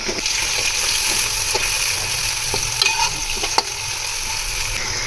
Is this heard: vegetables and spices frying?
yes